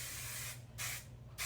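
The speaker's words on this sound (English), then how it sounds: "I'm gonna spray it." TIGI Magnified XF Volume hairspray sprayed onto curled hair in bursts: a long hissing spray followed by two shorter close, loud bursts with brief pauses between.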